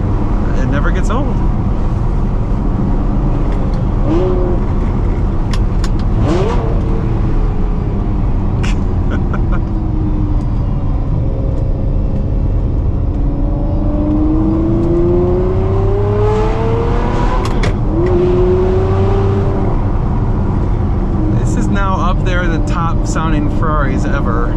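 Ferrari 599 GT V12 with a 6-into-2-into-1 exhaust revs loudly and continuously, rising and falling in pitch, while someone talks over much of it.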